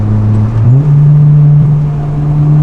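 A Honda Integra Type R engine drones loudly and steadily, then revs up briefly and settles into a sustained higher hum, close and alone without talk.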